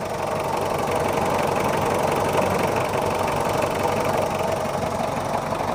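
A Mitsubishi Kuda diesel engine idles steadily with an even knocking clatter, close and loud, with no voices.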